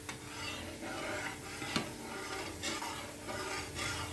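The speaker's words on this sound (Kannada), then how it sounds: "ಈ ಥರ ತಿರುಗಿಸ್ತಾ ಇರೋದ್ರಿಂದ ಜಾಮೂನು ಒಂದೇ ಕಡೆ ಫ್ರೈ ಆಗೋದಿಲ್ಲ" Gulab jamun frying in hot oil, a continuous soft sizzle and bubbling with occasional scraping clicks as the balls are turned, close and fairly quiet.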